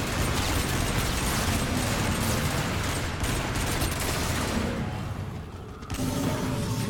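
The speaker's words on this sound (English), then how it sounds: "you need to shoot off arms of all the zombies. So just short little bursts" Gunfire is aimed at zombie hordes in the video game Rave in the Redwoods. Loud, dense bursts of shooting mix with a constant roar of game noise, easing briefly near the end before resuming.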